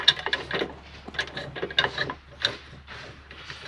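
Metallic clicks and ratcheting close by as a bolt is fitted and turned on a Ford Bronco soft top, short irregular bursts with pauses between them.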